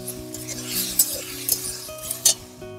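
Capsicum and tomato stir-fried with soy and tomato sauce for a Chinese-style cabbage dish, a hissing sizzle broken by four sharp metallic spatula clinks against the pan.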